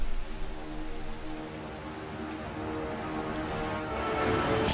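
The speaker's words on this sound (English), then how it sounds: "They have rain in Lost Ark?" Rain falls in the video game Lost Ark as a steady, even wash of patter layered over sustained game music tones, moderately loud and unbroken throughout with no talking.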